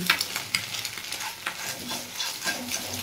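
Bitter gourd and egg fry in oil in a pan, producing a close, continuous sizzle with scattered scraping and stirring sounds from a utensil.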